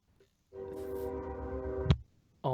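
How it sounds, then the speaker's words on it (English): A loud cargo train passes, its horn blaring in a sustained, harmonic blast for about a second and a half, cut off abruptly before another blast begins. "there's a real loud train that comes through"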